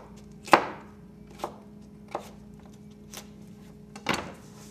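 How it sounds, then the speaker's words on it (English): Knife slicing fennel thinly on a cutting board, five separate chopping thuds spaced about a second apart, the first and last louder, in a quiet room. "And then we're simply going to slice it somewhat thinly like we would an onion."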